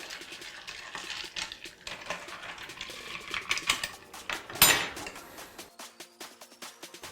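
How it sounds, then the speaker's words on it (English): A cocktail topped with soda being stirred in a glass, quick light clinks and taps of a spoon against the glass in an irregular patter, with one brighter ring partway through. "Give it a quick stir."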